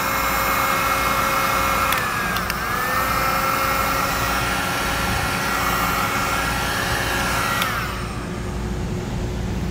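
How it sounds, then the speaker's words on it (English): A heat source used to seal the ends of a heat shrink wire connector on a Hopkins trailer wiring harness blows with a loud, steady, dryer-like roar for nearly ten seconds, with brief pitch shifts before easing slightly at the end. "I'm gonna grab my heat source real quick. and seal up the ends."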